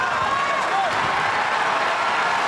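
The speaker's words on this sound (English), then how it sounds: "So the crowd responding here down the stretch" A UFC arena crowd in Boston roaring and applauding during a fight, a dense continuous wash of cheering and clapping heard from within the venue, with a commentator's voice over it.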